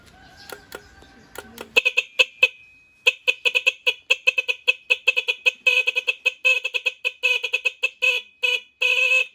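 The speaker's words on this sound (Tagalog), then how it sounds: "Itong busina niya matinis." A shrill horn on a Motorstar 125 motorcycle honks in a rapid series of short bursts, close and loud, after a brief stretch of faint mechanical clicking.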